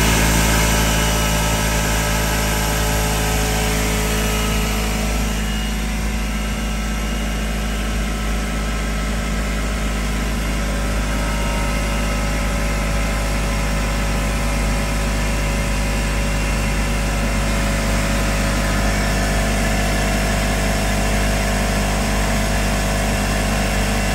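Air compressor powered by an EcoFlow Delta 3 portable power station, running as a steady, loud motor drone with constant hum and vibration throughout, alone with no talk.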